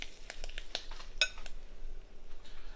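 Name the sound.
stirring wilted lettuce in a pan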